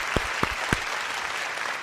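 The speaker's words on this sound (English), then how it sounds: "Let us offer a big round of applause of gratitude" An audience at a church workshop opening speech breaks into a big round of applause, starting with a few distinct loud claps before settling into dense, steady clapping.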